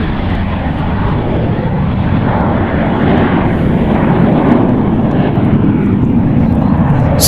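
A Flexjet Phenom 300 business jet, seven years old, departs San Francisco International Airport with a loud, sustained engine roar that stays steady and close throughout, without any voices.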